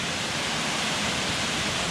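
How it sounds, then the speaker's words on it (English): Dip Falls waterfall in Tasmania roars as a steady, dense rush of falling water, loud and unbroken from start to finish with no voices. "you can hear the water. Dip Falls this is"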